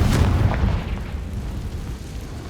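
A Confringo blasting spell bursts in Hogwarts Legacy, a deep booming explosion that hits at once and then rumbles and crackles away over a couple of seconds, loud and close with no talk.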